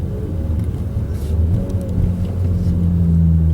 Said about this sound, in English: So this is a double clutch downshift.